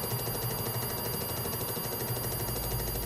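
An Atari 65XE disk drive loading a game gives off a dense, continuous mechanical whirring and fine ratcheting chatter, steady and fairly quiet throughout with no voices.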